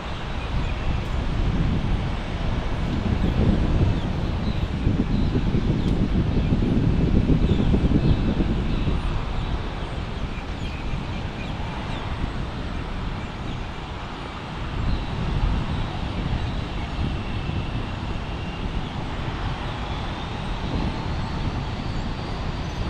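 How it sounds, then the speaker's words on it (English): A JetBlue Airbus A321 airliner takes off at Fort Lauderdale International Airport in Florida, a steady, loud, broadband jet roar with deep rumble that swells for about ten seconds, then eases to a sustained wash of engine and wind noise. "JetBlue's got the go-ahead 1402, Airbus A321"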